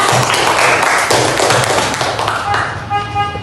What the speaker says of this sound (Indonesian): Ya, aplaus untuk Sinan ya.